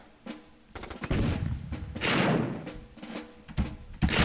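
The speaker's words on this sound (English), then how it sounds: "A mortar." Mortar fire and explosions in the Army Men video game, a rapid series of loud blasts and thuds in quick succession with no talk over them.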